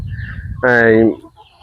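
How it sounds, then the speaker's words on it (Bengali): A single loud, drawn-out call from a free-range native (deshi) chicken lasts about half a second over a low background rumble, then fades back to quiet ambience. "এই দেখেন আপার মুরগি ঠিক আছে"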